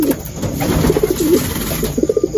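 Several pigeons coo close by in a loft, a run of soft throaty warbling calls repeating in uneven bursts, loud and without talk.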